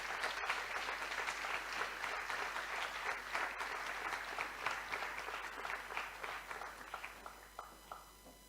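Applause from a debate competition audience honouring the runners-up team, sustained dense clapping filling the room at steady volume, thinning slightly toward the end with individual claps standing out.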